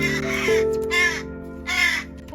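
A wild crow caws loudly three times in uneven succession, each harsh call standing out close and clear against a steady low background hum.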